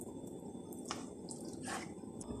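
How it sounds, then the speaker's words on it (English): Bell peppers are stuffed with filling by hand, giving soft, wet squishes and a few brief squelchy pokes, close but quiet, with no talking. "So I'm going to stuff these peppers so I make sure I have enough."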